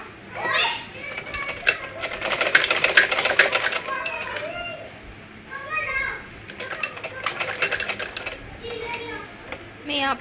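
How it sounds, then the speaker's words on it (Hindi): A sewing machine runs in bursts with a rapid mechanical chatter while stitching lace along the edge of a dress hem, heard close, and children's voices and chatter sound over it throughout. "इसी शेप में बिल्कुल किनारे किनारे पर हम सिलाई लगाएंगे।"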